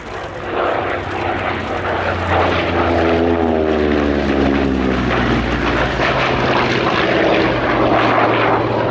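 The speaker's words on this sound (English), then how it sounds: "Horsepower from the Corsair's Pratt & Whitney R2800 double Wasp engine" A Vought Corsair fighter with a Pratt & Whitney R2800 Double Wasp radial engine passes at an air show, a loud, sustained propeller drone that swells and shifts in pitch as it flies by.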